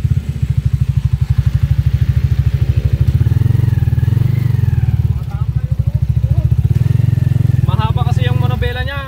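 A TMX155 motorcycle is ridden with its single-cylinder engine thumping in a fast, steady, loud rhythm close by, the pitch rising and falling slightly, while someone talks over it.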